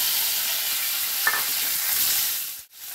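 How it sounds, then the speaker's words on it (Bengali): Potatoes frying in hot oil after neem leaves were fried in it, a loud, continuous close sizzle with one brief clink and a short dip near the end, with no talking. "এই তেলের ওপর আমি এবারে আলুগুলো ছেড়ে দেব।"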